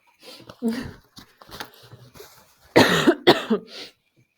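A person coughs several times at close range, a couple of harsh bursts mixed with throat clearing and brief vocal sounds.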